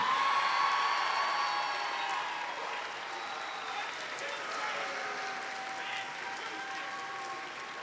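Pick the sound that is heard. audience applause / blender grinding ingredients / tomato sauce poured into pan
audience applause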